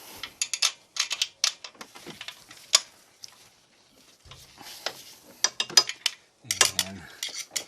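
Socket wrench ratcheting on a valve lash adjuster nut of a Honda H22 engine, close, quick bursts of dry clicking in short irregular runs with brief pauses, alone.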